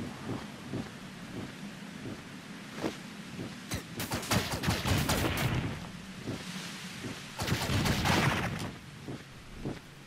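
Rapid bursts of blaster fire in the Owlboy video game, dense clusters of sharp popping shots in two loud volleys over a rumbling, noisy game soundscape with scattered single shots between them.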